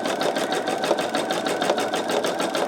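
A machine embroidery unit stitches a sugar skull design in pale green thread, a fast, even, close mechanical chatter of needle strokes running steadily without pause.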